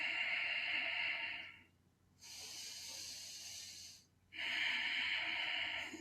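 Strong rhythmic breaths rush in and out during a kriya yoga shoulder shimmy, with three long airy phases in steady alternation, close and clear, and only brief pauses between them.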